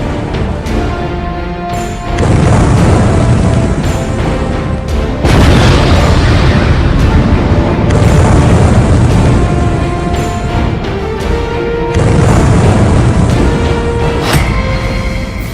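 Russian tank fire produces heavy, continuous booming explosions in a war-torn city, loud and rumbling throughout with successive blasts layered over a dense roar.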